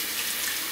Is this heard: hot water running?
yes